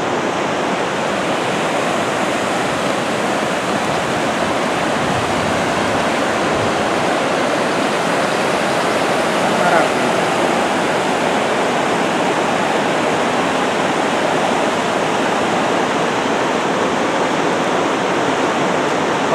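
Waterfall at Cachoeira da Ema, a steady, dense roar of falling water that continues unbroken and fairly loud throughout with no talk.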